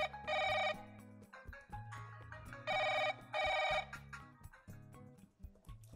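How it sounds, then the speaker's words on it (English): A phone ringtone plays a melodic electronic tune, with repeated bright bursts of tones. No voices are heard. "the device starts playing the ringtone"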